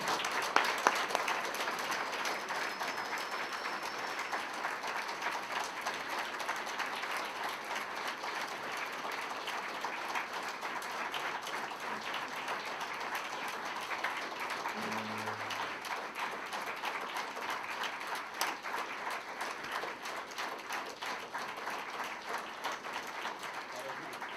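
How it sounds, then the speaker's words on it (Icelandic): Steady audience applause welcoming three returning players at a club signing event, sustained even clapping from a moderate crowd lasting throughout, with faint talk underneath. "við skulum bara gefa þeim gott klapp"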